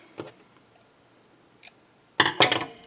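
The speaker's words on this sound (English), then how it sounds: "this is the point where you cut your yarn" Scissors snip through knitting yarn in a few crisp, close cuts: a faint snip, a short pause, then two quick louder snips near the end in an otherwise quiet room.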